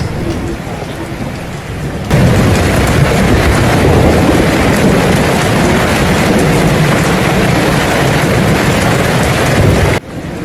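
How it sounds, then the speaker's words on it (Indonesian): Heavy, unbroken rain pours down with thunder rolling underneath, a dense roar that jumps louder after about two seconds and holds steady, with no voices. "Hujan turun tanpa henti selama beberapa hari."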